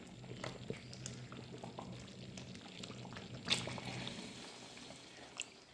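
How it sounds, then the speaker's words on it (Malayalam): First coconut milk poured into a pot of payasam (pradhaman) on the stove: a soft, faint liquid pour and gentle bubbling, quiet and close, with a brief clink partway through. "നമുക്ക് 1-ാം പാൽ ഒഴിച്ചു കൊടുക്കാം."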